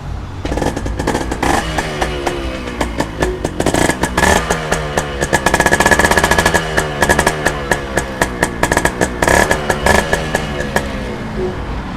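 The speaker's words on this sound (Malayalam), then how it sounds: "നല്ല 6 ഹോൾ സൈലൻസർ ഉള്ള വണ്ടി കേട്ടോ." A Yamaha two-stroke motorcycle engine with a six-hole silencer runs nearby with a rapid, popping rattle, revving up and settling back repeatedly for several seconds.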